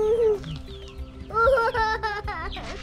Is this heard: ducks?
yes